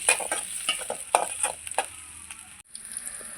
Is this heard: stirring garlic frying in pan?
yes